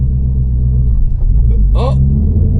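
A manual S650 Mustang GT engine rumbles low and steady as the car pulls away slowly, close and constant, with voices talking over it.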